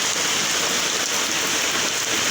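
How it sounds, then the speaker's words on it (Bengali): Heavy rain falls after a spell of hot weather, a steady, dense hiss of drops close by that stays even and unbroken throughout the short stretch, with no talking. "কত সুন্দর বৃষ্টি দেখুন"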